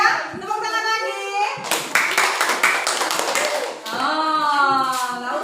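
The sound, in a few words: class clapping hands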